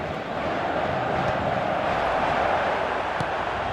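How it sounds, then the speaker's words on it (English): Stadium crowd in an eFootball match keeps up a steady, broad roar of cheering for the full stretch, dense and sustained with no break. "Certainly gave this crowd something to really cheer about."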